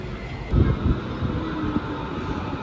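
Low rumbling and clatter of a Hamburg public transport train in motion, heard from inside with irregular knocks and a steady hum, moderately quiet.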